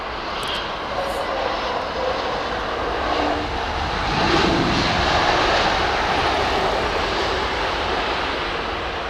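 Lufthansa jet airliner passing at an airport during arrivals, its engines giving a steady broadband roar that swells slightly midway and stays continuous throughout, fairly near and alone with no talk.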